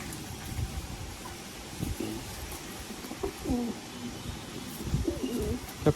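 Madrasi pigeons coo in a low, repeating, throaty pattern, several birds close by, with light rustling and faint background noise.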